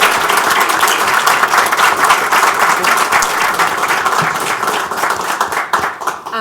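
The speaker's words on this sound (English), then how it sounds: "Please give a great round of applause to Dr. Chelsea Taylor." A council-meeting audience gives a sustained round of applause, dense steady clapping from many hands filling the room and fading slightly toward the end.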